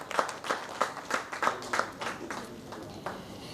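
Audience applause for a panelist at a tech summit on AI and cloud, a run of steady claps swelling then thinning out over a few seconds, with faint voices underneath.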